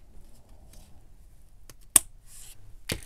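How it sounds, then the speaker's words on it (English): Scissors snipping a slanted edge on a junk journal paper tag, a sharp close cut near the middle and another near the end with faint rustling between, no talking. "I'm going to go ahead and cut the slanted part."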